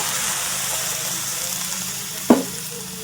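Half a cup of water added to brinjal pieces frying in a pan for masala curry, giving a loud, steady close sizzle with a single short clunk near the end.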